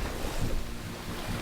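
Strong surf pounds a windy beach during the outer bands of a typhoon, a continuous broadband roar of waves with gusting wind buffeting the microphone, steady and loud throughout.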